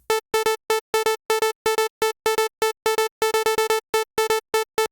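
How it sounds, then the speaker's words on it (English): A sharp sawtooth synth tone chopped by a trigger channel into a stuttering gate pattern, bright buzzy bursts in an uneven rhythm separated by clean silences, loud and dry. "I've just got a very sharp saw wave sound that gives me loads of control over the shape of this"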